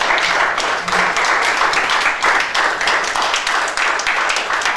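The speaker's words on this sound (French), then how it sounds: "On acclame la parole du Seigneur" A church congregation applauds together, loud and close, with steady sustained clapping that swells in waves throughout.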